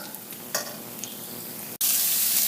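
Red onions hit a hot pan, and a quiet low sizzle gives way to a sudden louder, brighter hiss as they start frying.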